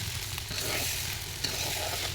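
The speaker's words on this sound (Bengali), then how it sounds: "এগুলোকে যত ভাজা হবে তত মজা হবে" Steady, dense sizzling of food frying in a pan, with a soft stirring scrape partway through and no voices.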